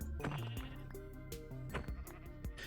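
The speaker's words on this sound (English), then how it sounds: "Sheep." Sheep bleating in the Minecraft video game, several short bleats over a busy layer of game music and sound effects, fairly loud and close.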